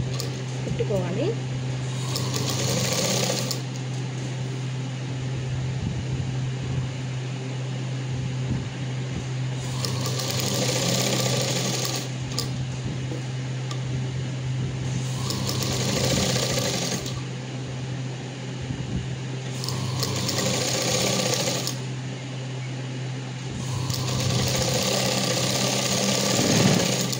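Electric sewing machine stitching a short frock with lining, running in steady whirring bursts that start and stop every few seconds over a constant mains hum, with voices talking through it.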